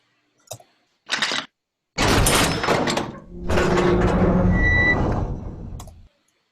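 A door sound effect from Better Call Saul starts with a few short clicks and knocks, then two long grinding, sliding scrapes follow one after another before stopping.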